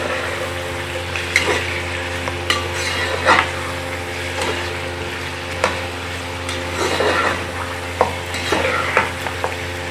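Whole garam masala spices frying in a pot as the base for Lahori degi-style chicken biryani, with a steady low sizzle and scattered stirring scrapes and clinks of a spoon against the pot, no talking.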